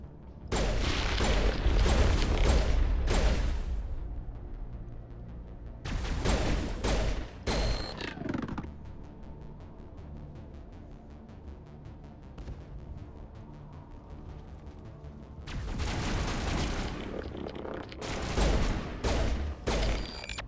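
Pistol gunfire from the game Mass Effect on the planet Feros, heard as loud clustered bursts of sharp shots at the start, middle and end, with quieter mechanical game ambience in between.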